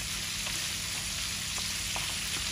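Shrimp frying in a pan gives off a steady, faint sizzle with scattered soft pops, and no voices are heard.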